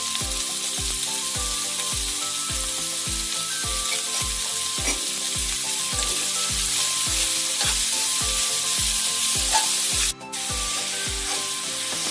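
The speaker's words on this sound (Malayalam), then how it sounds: "ഇനി നമുക്കിതൊന്ന് മൂടി വെച്ച് ആ സവാള ഒന്ന് വഴണ്ട് വരട്ടെ" Onions sautéing in a pan with salt for a prawn and tapioca dish, a loud steady sizzle with a repeating rhythmic scraping or stirring, close and continuous, with no speech.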